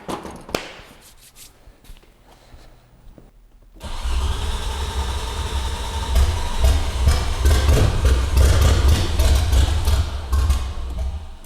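A junkyard Audi 90 Quattro Sport, running on years-old fuel, cranks after a few quiet clicks and bursts into a loud, rough-running engine that keeps idling and revving unevenly under its own clatter.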